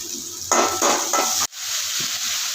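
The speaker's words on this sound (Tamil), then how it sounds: "வெங்காயம் போட்டுக்கலாம் நல்லா வதக்கிக்கலாம்" Onions sautéing in oil in a pan with curry leaves, heard as clattering spoon-and-pan scraping over a steady background sizzle, then a sudden brief drop before the frying hiss resumes alone.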